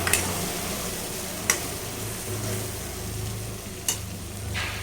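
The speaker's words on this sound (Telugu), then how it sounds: "చివరగా కొత్తిమీర వేసి అంతా ఒకసారి కలిపి" Cauliflower curry with fresh coriander stirred in a pan, giving a steady low sizzle with occasional sharp scrapes and clinks of the spoon against the pan, close and with no talking.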